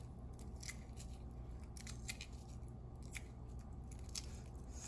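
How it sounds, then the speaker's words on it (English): Shell being peeled off a boiled egg by hand, with a run of small, close crackles and crunchy snaps over a faint low hum, no talking. "So see how it's peeling off by itself? Very easily, peeling off easily."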